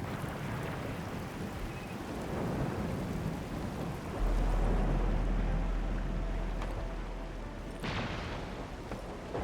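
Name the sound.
heavy rain and thunder in video game Arknights Endfield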